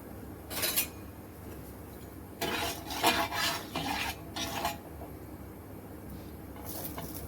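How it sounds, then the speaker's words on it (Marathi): Spoon scraping and stirring poha vadis in a kadhai over low heat, intermittent metallic scrapes in short bursts over a faint background sizzle. "आता ह्या वड्या छान आपण याच्यामध्ये करून घेऊया"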